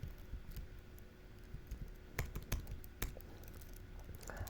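Steady typing on a computer keyboard, a continuous patter of quiet key clicks with a few sharper, louder strikes scattered through, heard close and alone with no voices.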